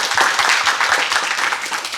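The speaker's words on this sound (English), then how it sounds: "so let's give him a round of applause for that." A live audience gives a steady round of clapping for newly minted UFC fighter Damien Anderson, dense and continuous for about two seconds with no voices over it.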